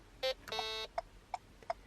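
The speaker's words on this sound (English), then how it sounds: "2 beeps is actually a left indicator, so if I press it and hold it for 2 beeps, my left indicator will then be going." An adapted car indicator control gives two short electronic beeps, followed by a longer tone and a series of soft, evenly spaced ticks, quiet and close.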